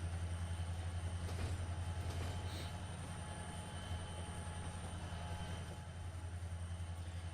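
A Norfolk Southern engine in a train simulator game pulls Conrail boxcars with a deep, constant rumble and steady rolling wheel noise, plus faint clicks and a light squeal, without any voices.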